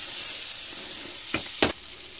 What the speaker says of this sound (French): Poêle bien chaude, on met 15 grammes ou 20 grammes de beurre environ.